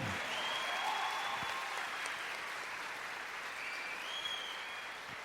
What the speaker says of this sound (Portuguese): Vamos aplaudir ao Senhor fortão.